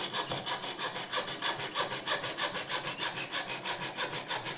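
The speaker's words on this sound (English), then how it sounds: "keep it at this angle as you're cutting through the tube. And let the vise actually guide the blade through the tube." Hacksaw cutting through a hard line water cooling tube clamped in a vise, a close, rapid, even rasp of back-and-forth strokes repeating steadily without pause.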